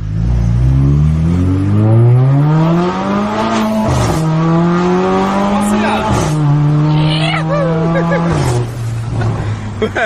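A Mercedes accelerates hard during a street race, its engine rising in pitch through each gear, with distinct drops at the shifts around every two seconds. The engine stays loud and close throughout, and a voice speaks over it.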